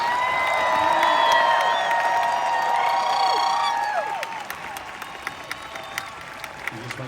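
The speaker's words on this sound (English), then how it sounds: "Give them a big round of applause." Large audience at the Hollywood Bowl on opening night, with crowd cheering, whistles and shouts over applause that swell loudly, then thin out into scattered claps and calls.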